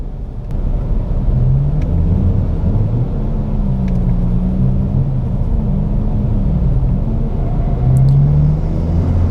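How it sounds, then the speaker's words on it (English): A car pulls hard at full throttle in fourth gear with traction control off, a steady loud engine drone and road rumble rising slowly in pitch over about nine seconds, no voices. "So 4th gear, foot flat to the floor."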